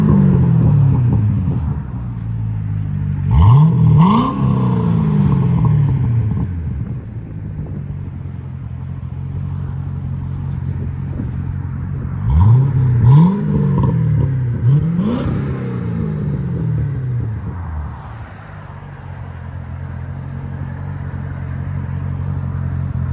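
A 2008 Chevy Corvette convertible with a 6.2L V8 and Black Widow exhaust, heard up close. Three sharp throttle blips rise and fall, one early and two later in close succession, over a deep, steady rumbling idle.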